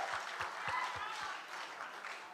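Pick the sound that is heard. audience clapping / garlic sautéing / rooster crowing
audience clapping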